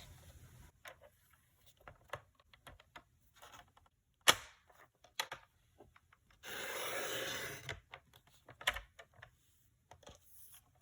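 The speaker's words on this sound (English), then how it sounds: "I'm going to line up the score line with the track on my trimmer, and I'll just go ahead and cut it out." A paper trimmer blade slides along its track to cut scored cardstock, a sustained rasping swipe of about a second amid scattered clicks and taps of handling the paper, close and quiet, no talk.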